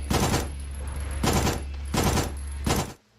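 Four bursts of rapid automatic fire from an HK SMG2 in the video game Signalis, each roughly half a second long with short gaps between, loud and close, set over a steady low hum.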